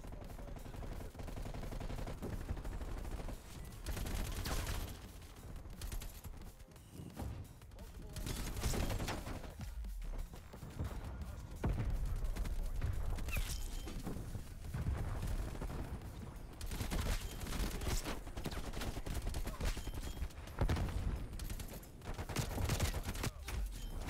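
AK-47 gunfire in the video game Call of Duty Cold War, dense repeated bursts of automatic fire throughout, loud and continuous with other game sounds and occasional talk mixed in.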